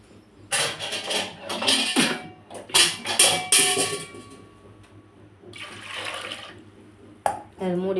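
Water splashes and pours in bursts into a cooking pot holding a Tamil snake gourd koottu with dried red chillies and curry leaves, loud and close, with pauses between pours and a clatter near the end.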